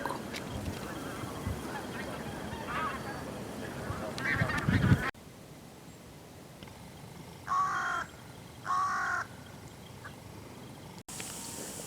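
A skein of wild geese flying over in early spring near a fishing spot, with honking calls in a couple of short bursts heard at a distance over outdoor background noise.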